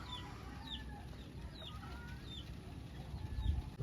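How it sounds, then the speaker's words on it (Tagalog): Chickens cluck softly while being fed alongside pigeons, a scatter of short chirpy clucks at moderate distance over steady background noise, no talking. "At papakainin ko na nga pala tong mga kalapati niya at mga manok."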